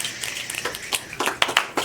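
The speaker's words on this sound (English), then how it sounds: "Give yourselves an early round of snaps and claps to get us going." A small audience at a poetry slam gives a scattered round of finger snaps and claps, light irregular taps that thicken into a burst of sharper snaps toward the end.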